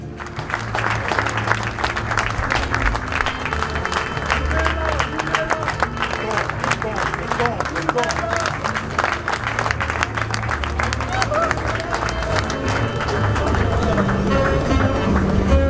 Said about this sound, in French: Je pense que ça mérite un tonnerre d'applaudissements.